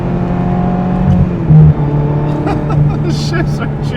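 A 1999 Ferrari 355 Berlinetta F1 engine drones loud and steady from inside the car, swelling briefly as it revs under acceleration, with brief voices near the end.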